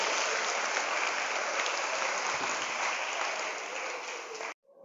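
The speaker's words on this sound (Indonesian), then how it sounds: "Tepuk tangan untuk kita semuanya hari ini." Steady, moderately distant applause from a seminar audience at an Islamic Quran memorization boarding school, a continuous dense patter that cuts off abruptly near the end.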